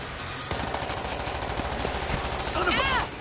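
Gunfire in the World War Z zombie shooter game, rapid automatic bursts firing continuously and loudly with dense overlapping shots, while a player's voice speaks over the action.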